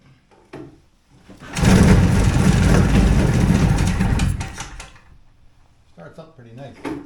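A hurricane hovercraft engine cranks and catches, running loudly and steadily for a few seconds before dropping off, with a person talking quietly around it.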